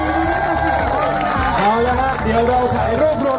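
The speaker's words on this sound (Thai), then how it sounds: "ขอเสียงปรบมือให้กับทั้ง 40 คนบนเวทีนี้เนยคะ" Crowd clapping and cheering for 40 finalists on stage at the Thailand Coffee Brewer League 2023, dense applause mixed with lively hubbub and voices, fairly loud and continuous.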